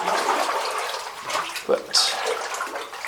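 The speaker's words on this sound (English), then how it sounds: "this water's not getting stirred up a whole lot" Water sloshing and swirling around a person wading through a flooded mine, a steady close splashing wash with a couple of brief louder surges; someone speaks a word over it.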